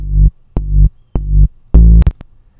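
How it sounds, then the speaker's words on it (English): Deep, tuned 808 bass notes with added distortion and saturation boom four times in a steady pulse, the last held longer and ending in a crackly burst. "I basically tuned it and added some distortion,"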